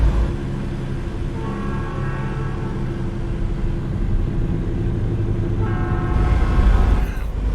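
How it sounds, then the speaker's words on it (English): In American Truck Simulator, a train rumbles past loudly and steadily, and its horn sounds twice in long sustained blasts, the second near the end. "Sounds I hear in here for the trains are just like the ones I hear in Train Sim World 3"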